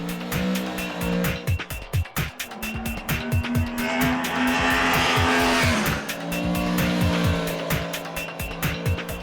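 A Yamaha MT-10 motorcycle laps a raceway. The loud engine rises in pitch through a steady run of rapid gear changes and rev surges, continuous and without talk.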